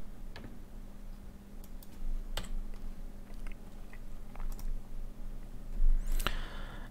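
Scattered clicks and taps from a computer keyboard and mouse come in irregular bursts over a low hum, ending in a short sharper rattle, with no voices.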